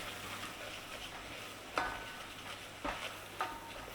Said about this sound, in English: A nice little cooking on the flour in there.